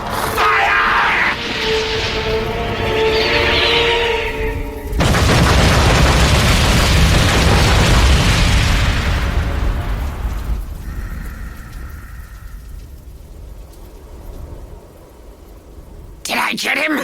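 Cartoon projectile attack in an animated alien-invaders series: loud booming explosions and a sustained roaring blast, with voices and music earlier, tapering to a quieter tail and a final burst.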